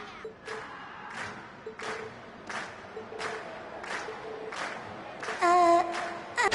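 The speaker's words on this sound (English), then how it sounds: "we've heard your cheers loud and clear" A video game concert crowd in The Legend of Heroes: Trails of Cold Steel cheers and claps in a steady rhythmic pulse, with a brighter, louder swell near the end.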